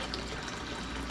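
Water runs steadily from a tap during dish cleaning, a continuous close hiss and splash with no voices over it.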